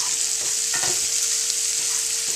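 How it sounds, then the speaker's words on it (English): A garden omelette with vegetables sizzles in a frying pan, a steady bright crackling hiss with a few soft scraping stirs partway through. "You hear this is sizzling."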